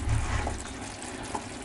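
Water or fish broth pouring into a pot of barley risotto made with scorpionfish, a soft continuous splashing trickle that stays fairly quiet, with no voices.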